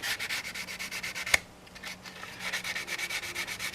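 Carbon fiber motorcycle tank trim is being sanded by hand to roughen it, giving rapid rhythmic back-and-forth scratchy strokes, close and clear, with a brief sharp tap and a short pause midway.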